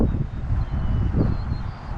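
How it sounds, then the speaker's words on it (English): Strong, gusty outdoor wind of roughly 10 to 20 mph buffets the microphone with a low, rumbling roar that swells and eases in uneven surges, with no voices. "Man, it is windy right now."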